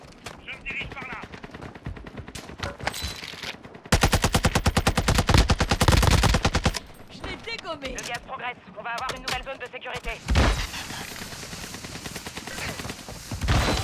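Rapid automatic gunfire in a shooter video game with a P90 and sniper rifles, loud dense bursts from several players, with shorter volleys before and after and a voice talking at points.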